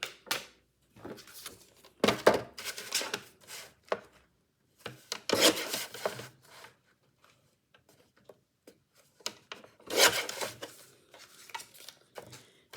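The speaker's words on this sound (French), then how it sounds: "On va mettre hop, un petit coup de trait de crayon là." A pencil draws lines on paper for a handmade craft album. Short, close scratchy strokes come in separate bursts with quiet gaps between them, and no one talks.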